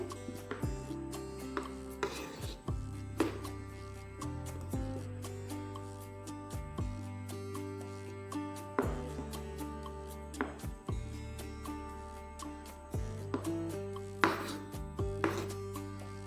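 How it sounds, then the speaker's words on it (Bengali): A knife chops five boiled eggs into small pieces on a board, giving sharp, irregular taps and thuds over a steady background hum with no speech. "প্রথমে আমি ডিমগুলোকে কেটে নিচ্ছি এইভাবে ডিমগুলোকে ছোট ছোট করে কেটে নিতে হবে"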